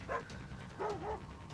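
A dog in the stealth video game Thief gives a few faint, distant barks and yips, two short bursts separated by a pause, quiet against a low ambient background.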